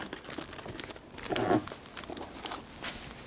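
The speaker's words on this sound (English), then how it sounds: "So, peel off the tape." Tape peeled off the packaging of a GX-63 General Franky figure, a close crinkling and tearing rustle that runs steadily through the short moment.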